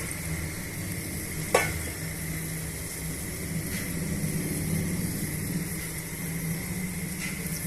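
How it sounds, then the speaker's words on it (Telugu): Half a kilo of mutton sizzles steadily in hot masala for a mutton biryani, a continuous close frying hiss with one sharp clack early on and no talking. "ఈ హాఫ్ కేజీ మటన్ని ఈ మసాలాకి మసాలాలోకి వేస్తున్నాము"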